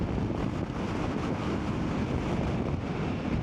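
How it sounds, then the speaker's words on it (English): Strong wind buffeting a microphone while motorcycle touring in Patagonia, a loud continuous low roar and rumble with no talking. "In the meantime, we're gonna try not to be blown over by the wind."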